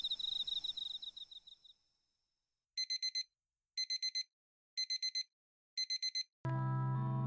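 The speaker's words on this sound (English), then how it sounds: "I smack my alarm clock and roll over onto the floor." In the horror visual novel game Baths, a digital alarm clock rings in four evenly spaced bursts of rapid electronic beeps after an earlier trill fades out, and a sustained tonal sound follows.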